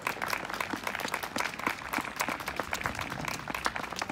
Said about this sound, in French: vous pouvez les applaudir parce que c'est un boulot énorme